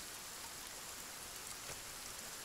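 Rain in Sons of the Forest, a soft, even hiss of drops falling on surfaces, faint and continuous with no talk.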